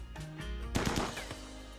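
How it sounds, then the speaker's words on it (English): A RimWorld colonist fires at a practice target, a quick cluster of three or four sharp gunshots around the middle of the clip, close and clear over a low background hum with no talking. "he's getting shooting skill by shooting at this thing"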